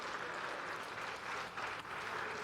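Ruling party lawmakers in the National Assembly applaud as President Lee Jae-myung enters the plenary hall, a dense, continuous round of clapping from many hands, steady and fairly close, with no voices over it.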